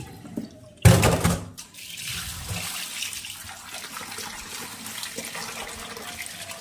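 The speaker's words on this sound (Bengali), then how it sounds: "ভালো করে আলুগুলো ধুয়ে নেবো।" Tap water runs steadily into a sink as new potatoes are washed, with a loud splashing burst near the start before settling into a constant, moderate flow.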